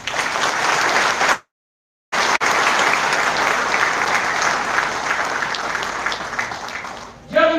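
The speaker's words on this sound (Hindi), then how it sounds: "एक बार और ताली हो जाएगी।" A large audience at a union meeting gives loud, dense applause that carries on steadily, broken by a brief dropout near the start, before a voice cuts in at the very end.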